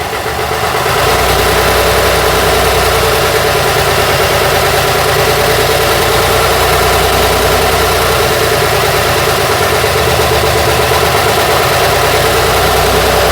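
A Routemaster bus engine idles steadily and loudly at close range, its low mechanical rumble and vibration holding throughout with slight swells as the throttle is worked, no voices over it.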